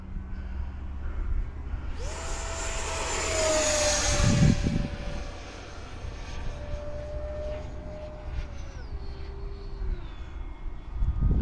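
An FF-117 radio-controlled jet with a 70mm electric ducted fan makes a full-throttle pass outdoors: a steady high whine swells into a loud rushing whoosh as it passes, then settles and drops in pitch as it flies away.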